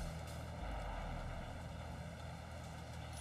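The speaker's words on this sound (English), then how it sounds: "a helicopter keeps strafing the deck" A helicopter strafes a ship's deck in a video game, its steady rotor and engine drone filling the whole stretch as a loud, continuous rumble with no gaps.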